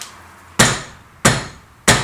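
Three dull, close hammer knocks at a steady pace as a soft hammer works sheet metal into a bend on a BM 250 trials motorcycle project; each blow is loud, decays quickly, and no one talks.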